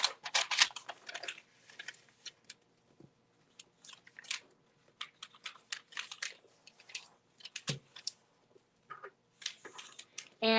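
Origami paper for a lotus tea light is folded and creased by hand, with crisp close rustles and sharp crinkling taps in irregular bursts separated by short quiet gaps.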